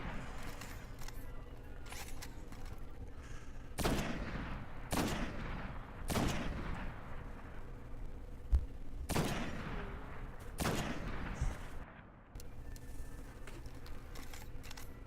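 Sniper rifle shots ring out in the video game Destiny, several sharp booming reports spaced a second or two apart, each trailing into a long decaying echo over low background noise.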